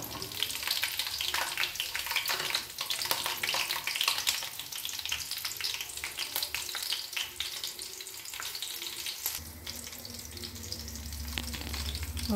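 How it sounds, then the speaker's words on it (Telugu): Green chillies fry in hot oil in a pan, making a steady, bright crackling sizzle that continues throughout with some stirring noise and no talk. "ఆయిల్ అయితే వేడైపోయింది. నేను పచ్చిమిర్చి వేసుకుంటున్నానండి."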